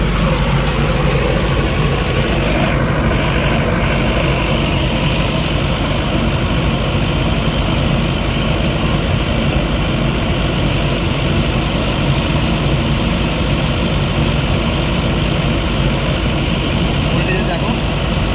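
A 50 kVA diesel generator runs under load, giving a steady, loud, unbroken engine drone with a low rumble throughout and no pauses.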